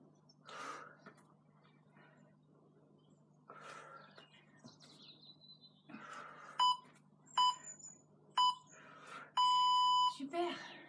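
A workout interval timer gives three short loud electronic beeps at a steady pace, then a longer sustained tone, in a HIIT session, with a coach talking over quiet background before the beeps.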